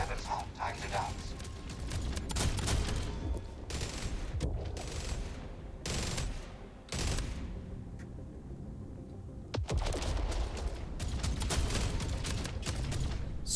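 Weapons firing in a space combat video game, bursts of rapid shots and mechanical clattering that start and stop in clusters, loud and close, with a quieter pause partway through.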